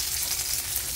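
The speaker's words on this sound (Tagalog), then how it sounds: "Iprito muna ng konti para malis yung lansa niya." Anchovies frying in a pan in an outdoor dirty kitchen give a steady, close, continuous sizzle throughout, with no talking.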